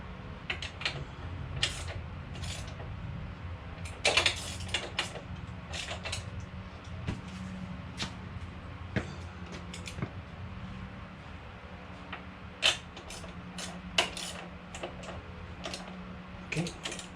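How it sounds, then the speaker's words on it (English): A ratchet turns a rear shock bolt on a 2021 Honda Monkey, giving scattered short bursts of sharp metallic clicks, close and fairly quiet, with pauses between strokes. "Oh, ratchet."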